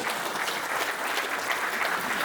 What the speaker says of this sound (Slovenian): Dajte gospodične en velik aplavz